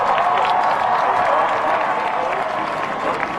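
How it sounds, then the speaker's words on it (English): A large crowd cheers and applauds in the grandstands at Daytona as a NASCAR race starts, a dense continuous roar of clapping and shouting spread across the whole stretch. "Reed Sorensen leading him to the green in front of a great crowd here at the World Center of Racing."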